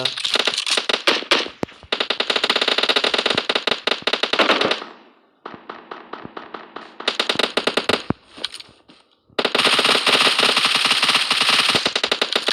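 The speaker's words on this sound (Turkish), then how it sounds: "biri sıkıyor ama nerede?" Video game gunfire rattles in long, loud automatic bursts, with rapid cracking shots and brief pauses between volleys and no voices.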